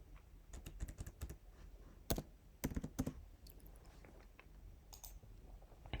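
A few bursts of typing on a computer keyboard, loose clusters of soft clicks with pauses between them, close up in a quiet room with no voices.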